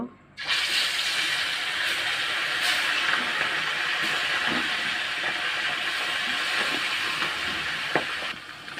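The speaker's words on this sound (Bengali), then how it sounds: "তেল গরম হয়ে গেছে, আমি মাছ দিয়ে দেব।" Small puti fish drop into hot oil in a pan and fry with a loud, steady, broad sizzle that starts abruptly and holds evenly throughout, with a few faint clicks.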